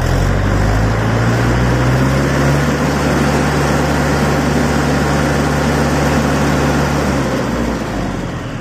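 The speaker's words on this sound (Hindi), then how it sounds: "स्टार्ट करते हैं ट्रैक्टर को तो आप देख सकते हैं और आरपीएम कितना चढ़ेगा वो भी हम आपको दिखाते हैं" A Mahindra 475 DI tractor's diesel engine, a 42 HP MS model, runs loud and close with a steady low throbbing drone that holds and rises slightly in pitch, then eases off at the end.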